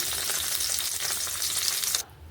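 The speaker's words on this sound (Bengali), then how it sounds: "মাছগুলো ঠিক এইরকম আমার ভাজা হয়ে গেছে" Lata fish sizzling and crackling in hot oil, a continuous close frying hiss that drops away sharply near the end.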